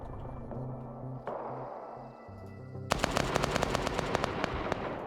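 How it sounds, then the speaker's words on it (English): Rapid bursts of automatic gunfire from a military video game erupt partway through, loud and dense after a quieter stretch of ambient game noise with low tones, no voices. "I got some gunfire I can work with here."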